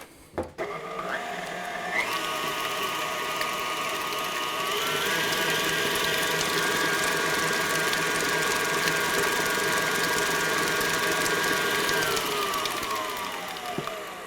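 An electric mixer beats vanilla sugar into Dobos torte batter with a steady, close mechanical whir and hum, its pitch shifting slightly as speed changes, running continuously after a brief clatter at the start.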